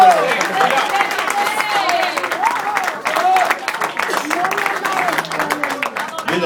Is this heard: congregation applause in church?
yes